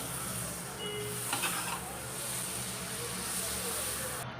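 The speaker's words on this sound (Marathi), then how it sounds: "गॅसवर तवा ठेवला आहे त्यावर थोडं बटर टाकूया" A faint, steady sizzle of butter on a hot griddle set over a gas flame hisses quietly throughout, with a brief louder crackle near the start.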